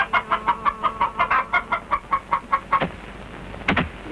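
A steady run of rhythmic clucks from chickens, close and regular, then a few sharper squawks near the end.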